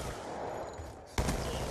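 Gunfire rings out in a Call of Duty multiplayer doubles match on Nuketown, a steady dense wash of shots and game noise, then one loud close burst of fire that continues at full volume.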